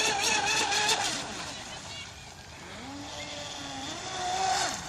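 A Hobbyking Hydrotek F1 self-righting RC boat motor runs at full throttle, giving a buzzing whine that rises and falls in pitch as the boat speeds across the water at a moderate distance.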